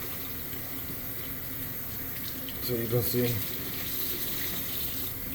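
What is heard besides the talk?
rinsing a soapy rag under a running faucet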